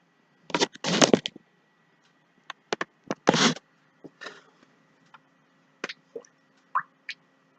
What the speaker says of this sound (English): carefully pour it everywhere all over the cake, especially around the edges.